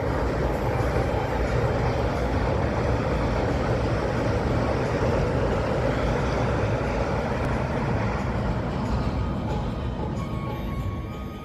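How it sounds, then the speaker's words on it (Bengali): A passenger train crosses the Gomati rail bridge at Udaipur, Tripura, making a loud, steady rumble and rattle that runs unbroken for the whole stretch and eases slightly at the very end. "এবারে ব্রিজ পার হচ্ছে প্যাসেঞ্জার ট্রেন"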